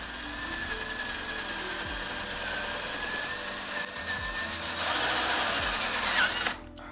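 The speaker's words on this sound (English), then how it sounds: "So I'm gonna drill that hole and hopefully I don't destroy this thing." Power drill boring a hole into a dried dead plant carcass for a tree house diorama, a steady close whining motor drone with slight pitch shifts, cutting off abruptly near the end.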